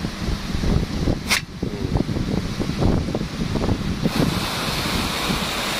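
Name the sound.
Big Gun Rain sprinkler spraying water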